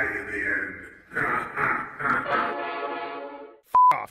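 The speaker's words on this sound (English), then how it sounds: "Fuck off, train." A passing train, its sustained, horn-like harmonic tone rising over a few seconds and cutting off near the end, heard alongside voices and a short electronic beep.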